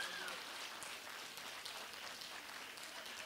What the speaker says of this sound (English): Everybody just give her a warm round of applause